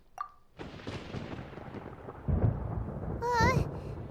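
Thunder rumbles through a stormy scene in the game Genshin Impact, with low booming swells building over several seconds, a brief chime-like sound near the start and a warbling tone near the end.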